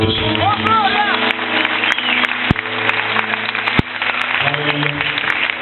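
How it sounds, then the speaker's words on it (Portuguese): Church congregation clapping during a Portuguese-language worship service at a cathedral, a busy spread of hands heard together with music and voices, with a couple of sharp loud knocks standing out. "dê um aplauso ao nome do Senhor."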